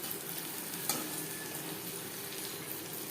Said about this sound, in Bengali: বড়ি ভাজা হয়ে গেছে, এবার লঙ্কা মিক্সড করে দেবো